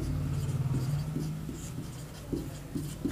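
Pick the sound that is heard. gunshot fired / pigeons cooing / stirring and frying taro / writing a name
writing a name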